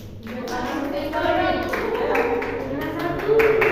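A class of students claps in a classroom during a teaching session, a fairly loud burst of hand claps with voices and children's chatter mixed in.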